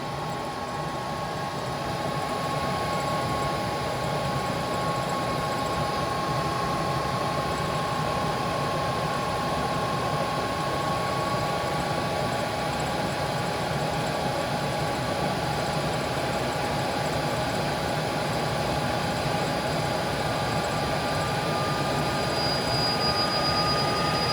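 HP C7000 blade server chassis with its fans spinning up after power-on, a steady dense broadband whoosh with a faint high whine holding level and loud throughout, no voices.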